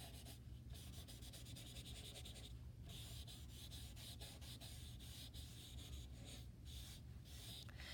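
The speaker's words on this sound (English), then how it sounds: "And I'm just going to rub it in a little bit more." Pencil shading on paper rubbed to soften it, a close, quiet, continuous scratchy rubbing with brief pauses and irregular strokes throughout.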